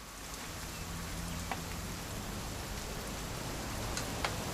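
Rain in the video game What Remains of Edith Finch, a steady dense hiss of falling rain with a few faint drips, continuous and even with no talking.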